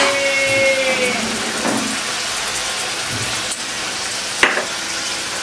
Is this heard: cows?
no